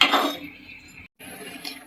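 A metal lid drops onto a cooking pot of simmering egg curry with a quick, close clatter and clink, a brief silence, then a faint ringing scrape in a home kitchen.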